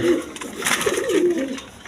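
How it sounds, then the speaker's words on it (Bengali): Large Indian Kaldom pigeons coo in low, repeated rolling phrases, close by, with a brief louder rustle partway through. "এক পেয়ার কালদম কবুতর আছে নাজরানা কালদম ইন্ডিয়ান কালদম"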